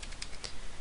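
Quick run of keystrokes on a computer keyboard, several crisp close clicks in under a second, alone without speech.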